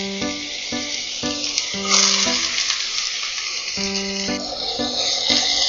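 Bottle gourd peel sizzles in hot oil with garlic, a steady crackling fry punctuated by repeated musical tonal beeps that stop midway and then resume.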